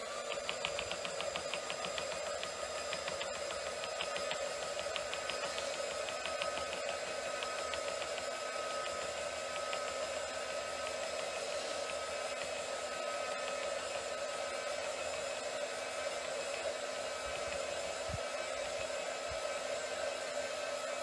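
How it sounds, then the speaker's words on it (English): A hair dryer blows steadily for the whole stretch, a constant whirring rush with a high motor whine, fairly close and unbroken, drying wet paint. "I'm going to use my dryer on this one because of the wetness of that brush."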